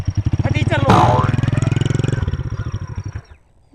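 A motorbike engine chugging in a steady rapid pulse close by, revving once and then fading as it is ridden away, with a person talking over it.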